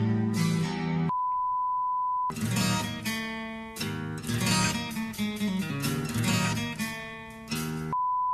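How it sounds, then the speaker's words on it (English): A steady censor-style beep sounds twice, once near the start and again at the end, between stretches of loud, dense music. "Now every time I hear that beep sound"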